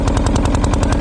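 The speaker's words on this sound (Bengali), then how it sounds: "একদম সামনে জেনারেটার বাজছে, একদম ঘাটে বসে রয়েছে।" A generator runs close by at a ferry ghat, a loud steady engine chug with a fast even pulse and no other sound.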